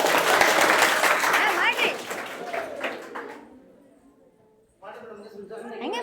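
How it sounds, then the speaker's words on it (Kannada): Loud applause from the audience at a school's annual celebration fades out over several seconds, then clapping resumes briefly, with voices mixed in. "ಒಂದು ಜೋರ್ ಚಪ್ಪಾಳೆ ಬರಲಿ"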